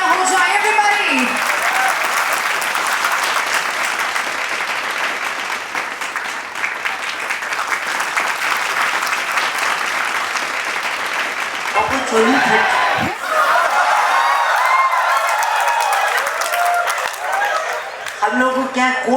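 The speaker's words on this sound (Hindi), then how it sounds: "जोरदार तालियां हो जाए everybody!" An audience at a film festival event claps and cheers loudly for a sustained stretch, dense crowd applause that briefly dips near the end before swelling again.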